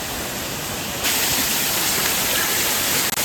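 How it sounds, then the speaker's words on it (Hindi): Small waterfall flowing through a forest near Mahabaleshwar, a steady broadband rush of water that grows louder and closer after the first second and continues unbroken. "थोड़ा सा झरना भी इधर बह रहा है।"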